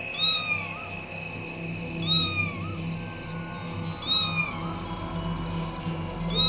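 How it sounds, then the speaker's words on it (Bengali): A cat meows several times, drawn-out rising and falling cries spaced a couple of seconds apart over a low steady background hum. "ওরে বাবারে, বিড়াল! হ্যাঁ, আবার বিড়াল।"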